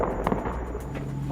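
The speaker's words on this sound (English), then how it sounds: "By night, the sky over Baghouz is lit up by explosions." Explosions at night over Baghouz during bombardment, heard as distant dull booms and cracks against a rumbling background with no talk.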